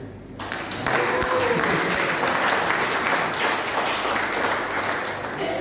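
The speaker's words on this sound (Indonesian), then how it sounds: "terima kasih karena Anda tepuk tangan bagi pantun itu" Church congregation applauding after a short rhymed verse at a Sunday service, a sustained, dense wash of clapping that holds steady for several seconds and thins slightly at the end.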